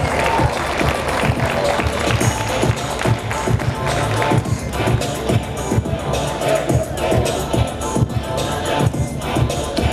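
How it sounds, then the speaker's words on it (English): Applause from the audience at a high school prom fashion show: dense, steady clapping with crowd murmur and some cheering, loud and continuous throughout. "one final round of applause for Ashanti Searcy."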